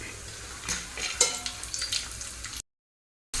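Cashews and raisins sizzle as they fry in a pan for kesari, with steady broadband crackle and a few sharp scrapes and taps as they are stirred, close and fairly loud, then a brief silence before the sizzle resumes.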